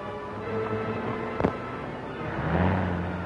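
A car engine runs steadily with a low rumble, a sharp knock midway, then the engine note swells a little louder near the end.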